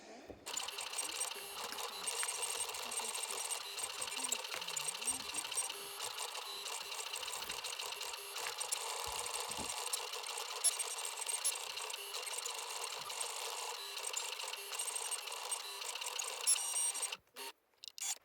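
A Cricut cutting machine drives its blade through vinyl, giving a steady whirring, buzzing mechanical drone that runs evenly for most of the clip and then stops abruptly near the end.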